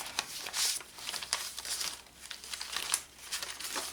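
Paper crinkles and rustles as pages and fold-outs of a retro kitchen recipe journal are flipped, giving soft, irregular swishes at low volume with no talking.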